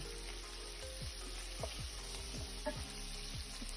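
Onions sizzle steadily in a hot pan for chilli chicken, a constant dense frying hiss with occasional soft pops and scrapes, no talking.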